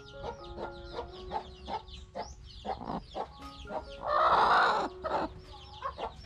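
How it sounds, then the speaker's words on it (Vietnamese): A hen sitting on a clutch of duck eggs clucks repeatedly in short, close calls, with one louder, harsher squawk in the middle. "Bữa nay cho con gà này ấp một mớ trứng vịt nữa này."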